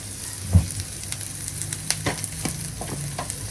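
Onions frying in a pan with turmeric and chili powder added, giving a steady close sizzle with occasional stirring scrapes and no talking.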